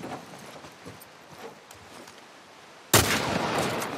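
A single sharp gunshot cracks loudly near the end in The Last of Us remake, following quiet ambient game sounds and faint footsteps.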